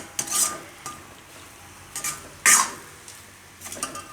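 A spoon scrapes and knocks against a pan while stirring a mix of puffed rice and potatoes, giving a few sharp metallic clinks spaced irregularly over a quiet background.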